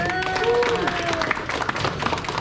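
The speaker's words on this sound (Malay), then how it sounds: "Okay, tepuk tangan." A group claps during an operations-efficiency training session, a short burst of scattered hand claps mixed with overlapping voices and crowd chatter.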